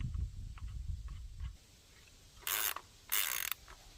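Ratchet wrench tightening a lock nut and washer onto a bolt on a well liner, heard as two short, loud bursts of clicking near the end, following a stretch of low rumble and soft handling noise.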